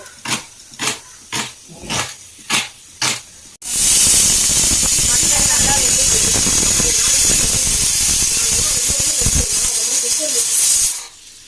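A pressure cooker gives several rhythmic puffs that lead into a loud, sustained hiss of steam rushing out under pressure, with muffled sounds beneath, before it cuts off.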